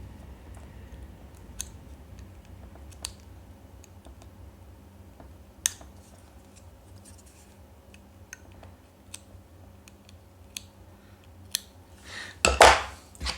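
Small sharp snips and clicks come at scattered intervals while a part for a Bruder Jeep RC conversion is carefully trimmed, then a louder burst of cutting and rustling at the end in a quiet room.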